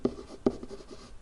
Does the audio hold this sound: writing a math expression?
yes